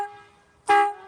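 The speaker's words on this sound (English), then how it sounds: "Honk for Trump" A single loud car horn honks once, brief and close, at a street protest in New York City, after a fading tonal sound.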